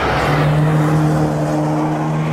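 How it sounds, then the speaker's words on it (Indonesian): A toy delivery car speeds along with a loud, steady whirring rush over a low motor hum, alone without voices. "Widih, mobil paketnya kenceng banget teman-teman."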